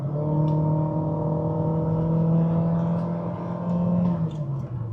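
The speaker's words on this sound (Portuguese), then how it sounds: "Aí quando tu pisa no fundo, o barulho entra mais na cabine, né?" A 2020 Honda HR-V EX drones under full throttle, its CVT holding the engine at a steady high-pitched hum that fills the cabin, heard from inside the car without talk.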